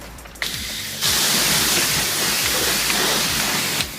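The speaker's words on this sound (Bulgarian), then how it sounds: "Намокряме автомобила много бързо, без да го мием, само го намокряме." A pressure washer gun sprays water onto a car at a self-service car wash, producing a loud, close, continuous hiss. It starts with a short burst and then settles into a sustained spray, with faint mechanical clicking beneath it.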